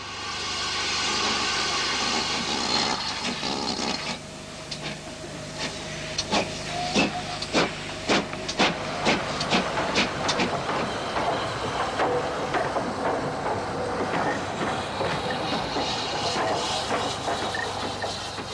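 Steam locomotive Impney Hall hauls a train of LNER vans, a steady loud hiss of steam running throughout, with a series of sharp rhythmic exhaust beats and clanks in the middle stretch before settling back to a continuous roar.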